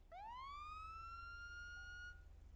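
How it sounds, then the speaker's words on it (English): A single electronic police siren in a video game whoops upward and holds a rising wail for about two seconds before cutting off, over a low steady hum. "just work your sirens and lights"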